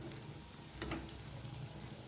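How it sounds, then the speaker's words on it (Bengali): Cabbage fritters (pakora) frying in hot oil, a faint, steady sizzle with one brief clink partway through and no voices. "বাকিগুলো একই রকমভাবে ভেজে নিচ্ছি এপিট উপিট করে"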